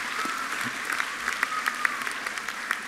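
Steady applause from a university graduation audience, many hands clapping in a dense continuous wash with a few sharper individual claps standing out near the front.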